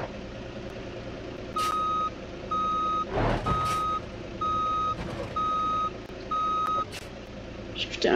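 Truck reversing alarm in the BeamNG.drive driving game, a steady string of six evenly spaced electronic beeps over a low engine rumble, with a couple of brief clunks in between.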